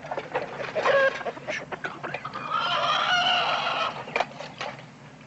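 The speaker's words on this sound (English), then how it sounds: "It's a shame for little Joe to kill a pretty little chicken like this one." A fighting rooster clucks and squawks close by in short, irregular bursts, with a longer rising call in the middle and faint background noise around it.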